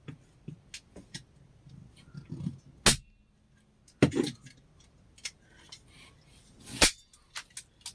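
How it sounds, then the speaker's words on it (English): A staple gun fires three sharp, loud snaps spread across the clip, each one alone, with quieter clicks and handling noise around them while work goes on mounting a cloud-shaped wall lamp. "The staple gun is out of staples."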